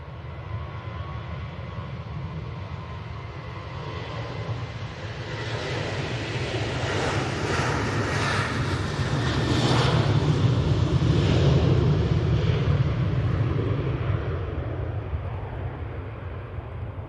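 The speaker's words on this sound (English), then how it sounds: "Nice Ryanair departure." A Ryanair airplane departs from Manchester Airport, its jet engines building into a broad roar that swells to a peak before slowly fading, heard from a distance with some wind noise.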